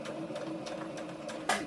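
A sewing machine stitches cloth mask fabric, a close, steady mechanical hum with a faint rhythmic ticking throughout and a brief louder knock near the end.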